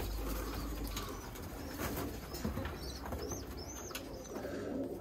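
Young roller pigeons in a loft, heard as soft, repeated cooing with occasional wing flaps and chirps against a steady low background, with no voices present.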